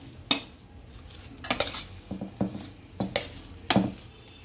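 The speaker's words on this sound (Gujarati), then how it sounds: "ચમચાથી હલાવી નાખશો" A metal spoon scrapes and clinks against a pan in several uneven bursts while a hot spiced mixture for bhajiya is stirred, with quiet pauses between strokes.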